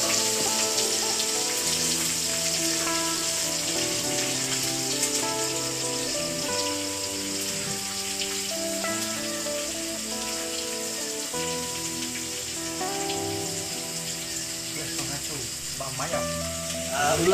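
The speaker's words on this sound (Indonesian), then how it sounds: "Kita akan goreng ini sehingga naik bau." Shallots, garlic, turmeric leaves and bay leaves fry in hot oil with a loud, continuous crackling sizzle that holds steady throughout.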